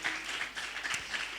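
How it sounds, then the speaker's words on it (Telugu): A church congregation claps together in praise, a dense continuous patter of many hands at moderate distance, steady throughout without a break. "చప్పట్లు కొట్టి దేవునికి స్తోత్రం చెప్దామా?"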